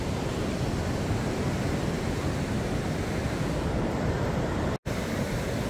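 Waves wash onto a fine-sand beach in Da Nang, Vietnam, a continuous broadband roar of surf mixed with wind rumbling against the microphone, steady and close with one brief dropout near the end.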